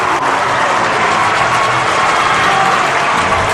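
A packed high school boys basketball championship crowd, with the standing student section loud, roars and claps in a continuous dense wall of noise throughout.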